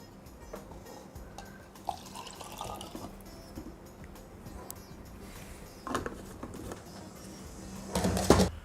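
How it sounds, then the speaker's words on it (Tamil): Rasam with turmeric, curry leaves, toor dal and pepper simmering in a pot, giving a soft steady bubbling with small liquid pops and a louder burst of boiling near the end. "நல்லா அப்படியே கொதிக்கட்டும். ஜஸ்ட் ஒரு 5 நிமிஷம் கொதிச்சா போகிறோம்."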